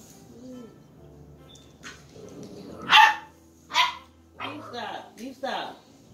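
Dog barking indoors in a loud playroom with children, several sharp barks and yips in irregular bursts, close and loud, with kids' voices and chatter around them.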